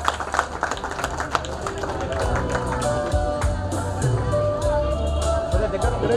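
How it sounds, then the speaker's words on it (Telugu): An audience claps steadily at a school batch reunion, the applause lasting several seconds, with crowd chatter and a speaking voice mixed in. "ఒకసారి గట్టిగా చప్పట్లు కొట్టాలండి"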